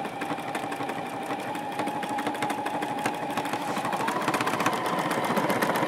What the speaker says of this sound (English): I'm going to demonstrate by going around this square using one of the quilting patterns